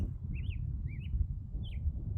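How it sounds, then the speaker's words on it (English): Several short, rising-and-falling bird chirps at Imperial Point on the Grand Canyon's North Rim, three separate calls spaced apart, over a steady low outdoor rumble. "I don't know if you can hear the birds singing."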